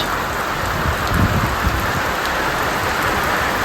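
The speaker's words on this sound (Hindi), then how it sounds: "यहाँ बारिश ही बारिश है, नॉन स्टॉप बारिश।" Heavy, unbroken rain pours down in a village, a dense steady hiss of drops hitting surfaces that holds at the same level from start to finish with no voices.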